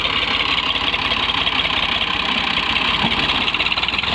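A tractor engine idles steadily in a Pakistani village, a close, loud, continuous diesel rumble with a fast, regular knocking pulse and no break for the whole stretch.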